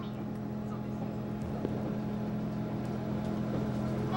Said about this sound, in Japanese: このキハ 283系という特急車両は力強いエンジンを持っていて